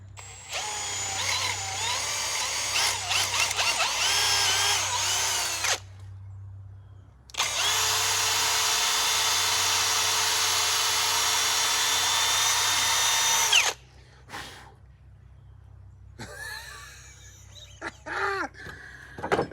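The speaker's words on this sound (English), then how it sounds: "Now I'm just gonna drill this through here." A power drill runs in two long, steady bursts, whining loudly close by, separated by a brief pause, with faint clatter afterward.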